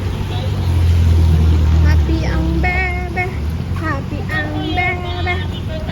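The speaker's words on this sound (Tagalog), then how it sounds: "ang dami sasakyan." Traffic passes on a wet road outside a shopping mall on a rainy day, a steady low rumble of car and bus engines with tyre hiss. People talk over it throughout, and a voice is heard.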